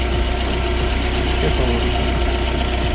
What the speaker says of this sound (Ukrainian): Зараз працює хорошо двигун, ще холодний.